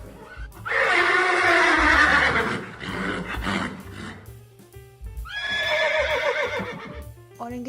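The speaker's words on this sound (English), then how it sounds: "Horse. The horse is a domesticated." A horse whinnies twice, a long loud neigh followed by a second shorter whinny after a brief pause, with some low background rumble.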